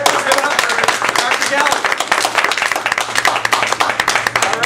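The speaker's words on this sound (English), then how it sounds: "let's have a round of applause for our speaker" An audience at a conference talk claps for the speaker, a thick, continuous round of many hands at close range, with a voice talking over the applause.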